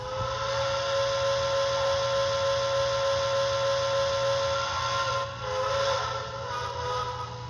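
A long, steady steam whistle from an MTH Protosound 3.0 model train sounds with a hissy edge, then wavers and warbles near the end in a quilling finish.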